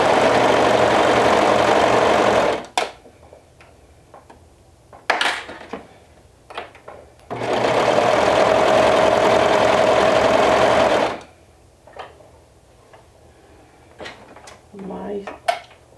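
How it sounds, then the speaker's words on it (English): A sewing machine stitches a seam with a 1/2 inch seam allowance in two loud, steady whirring runs, separated by quieter clatter and clicks of fabric and pins being handled at close range. "we're going to stitch it down with a 1/2 inch seam allowance"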